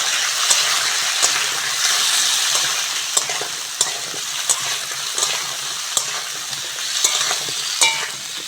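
Tomato stalks and green chilies fry loudly in a pan for a fish curry. A dense, continuous sizzle is broken by regular scraping clicks of a spatula stirring through the pan.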